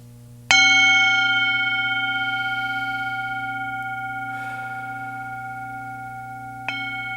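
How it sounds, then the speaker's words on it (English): A bell struck during a candle-lighting ceremony rings out in a clear tone that fades slowly over several seconds. A second strike follows near the end, with no voices. "we'll light the candle as we hear the 3 bells"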